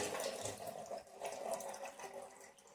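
Lukewarm water pours steadily from a jug into bread dough, about a jug for two kilograms of flour, making a continuous close splashing rush with a few brief dips in level.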